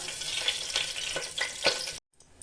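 Bay leaf frying in white oil in a pressure cooker for rajma masala, a close crackling sizzle with scattered pops and stirring that stops abruptly near the end.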